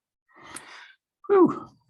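A single sharp sneeze from a person, an airy intake followed by a loud, close burst, with no other sound around it.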